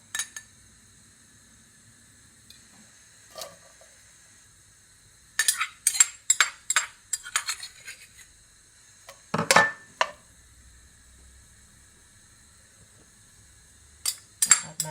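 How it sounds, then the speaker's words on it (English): Onions and garlic cooking in a small wok, sparse clusters of sharp metal scrapes and clinks from a utensil against the pan, separated by long quiet gaps. "in my little wok, guys, I'm going to add my onions and garlic and let it go for 2 to 3 minutes"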